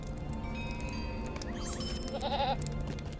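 A goat bleats in Lord of the Rings Online, a short wavering cry standing out over a steady game backdrop of ambient music and tones, with no talking.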